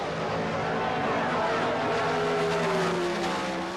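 Pro Stock drag race cars from a 1977 event launching off the line together, a loud sustained engine roar with rising pitch as they accelerate away, recorded through a dense, continuous wall of noise.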